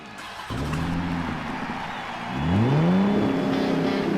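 Car engine revving as a sound effect, one rev rising and holding, then a second stronger rev sweeping upward into a sustained loud whine.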